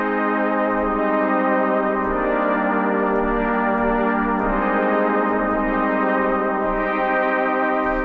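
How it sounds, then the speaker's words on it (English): A sustained Influx Pad synthesizer preset plays rich, layered chords that shift twice, smooth and full with a slow shimmering texture, no voices. "It's called the Influx Pad and it sounds like this."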